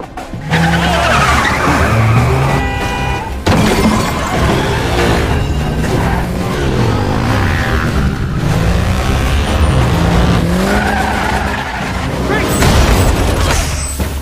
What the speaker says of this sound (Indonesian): Grace kembali menemukan celah untuk lari dari Ethan dan melarikan diri menggunakan mobil polisi